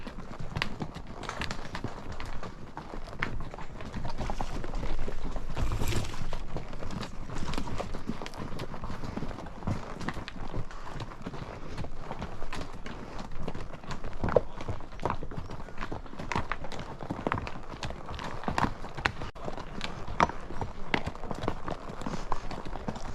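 Horses' hooves clop steadily on hard ground on a trail at Ponil, Philmont, several animals walking at an unhurried pace with light outdoor background noise and no talk.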